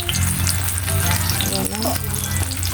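Eggplant fries in a pan with a loud, steady, close sizzle and crackle, with a brief stirring scrape partway through and no clear talk.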